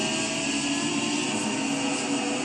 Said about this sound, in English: Listen to the sound of those engines